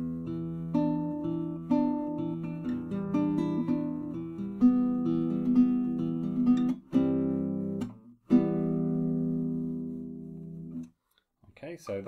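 Electric guitar playing a fingerpicked arpeggio pattern variation from a song, clean notes ringing and overlapping at moderate volume, with a short pause and a final sustained phrase before it fades out.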